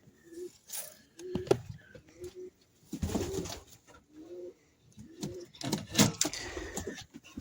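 Breeding pigeons cooing in a loft, soft repeated throaty coos in short phrases with gaps between them, close and moderately quiet, mixed with faint rustling and flutter.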